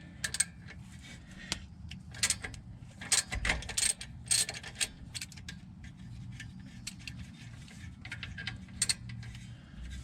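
Ratchet clicking in short bursts while a 10mm bolt backs out of the brake caliper pins on a 2003 Lincoln Town Car, close and fairly quiet, with pauses between strokes and no talking.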